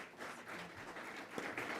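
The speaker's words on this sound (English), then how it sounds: "Let's give the panel a round of applause." An audience applauds a panel at a policy and permitting conference session, a brief, faint wash of clapping with no voices over it.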